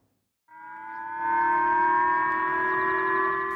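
A civil defense siren in Hokkaido, Japan, starts abruptly and swells to a loud, steady wail with a clear tonal drone, sounding alone.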